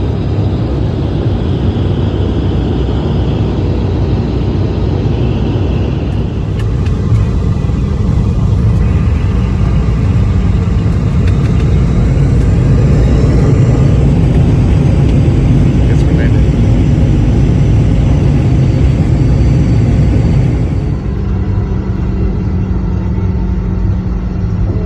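Airplane landing on Oahu near the hospital in Waianae, with a loud, continuous engine roar and rumble that shifts partway through and then eases, heard close from inside the cabin.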